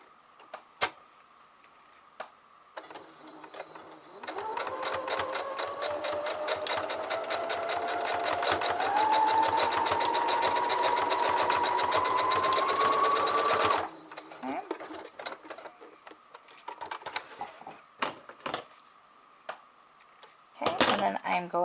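A sewing machine stitches an elastic headband seam in one loud, sustained whirring run of about nine seconds, its pitch slowly rising. Quieter handling clicks and rustles come before and after.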